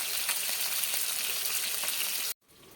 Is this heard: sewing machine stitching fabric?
no